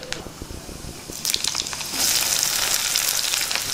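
Chopped onion pieces go into hot tempering oil with spices for a cauliflower tomato curry, with a few light clatters before a loud, continuous sizzle takes over partway through.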